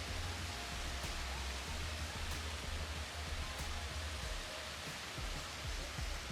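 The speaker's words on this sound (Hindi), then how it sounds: "ये सामने इधर जो पानी गिर रहा है इसी की आवाज़ आ रही थी" A small, light waterfall of falling water gives a steady, soft broadband rush with no pauses or voices.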